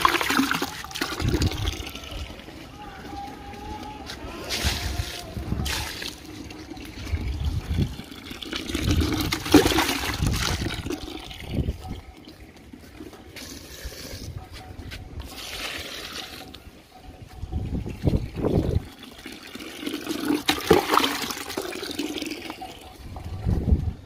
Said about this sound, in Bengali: গাছে জলটা দিয়েই দিই।